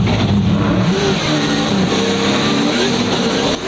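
Turbocharged LS-swapped Subaru BRZ drift car on Falcon tires, driven by Dai Yoshihara at a Seattle drift competition, revs loud and close, its engine note climbing and falling steadily with no break.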